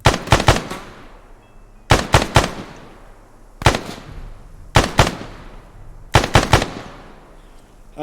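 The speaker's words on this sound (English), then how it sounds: "That bought me about 3 seconds of suppressing fire" Video game machine-gun fire in short bursts, five clusters of rapid shots spaced roughly evenly, each loud and close with a reverberant decay between bursts.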